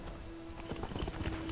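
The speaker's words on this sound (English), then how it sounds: "This time we are taking the horse." A horse's hooves clip-clop in the video game Skyrim, a soft, quick run of hoofbeats over a low, steady hum of background game sound.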